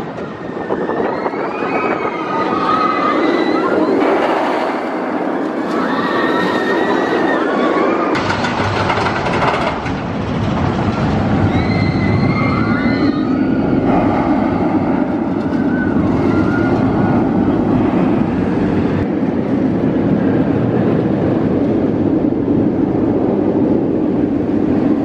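An original B&M stand-up roller coaster at Carowinds thunders past, a loud, sustained roar with rising and falling whines and rumbles that lasts for many seconds, with no voices.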